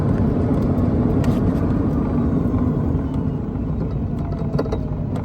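A 2014 Club Car Precedent golf cart fitted with a lithium battery accelerates with a steady, broad rumbling drive noise that stays even and fairly loud throughout, with no talking.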